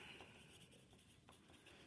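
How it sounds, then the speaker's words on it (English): A pencil writes names on a sheet of white paper, a faint, close scratchy scribbling with short strokes and brief pauses, quiet and alone. "And on the back, we need to write our names."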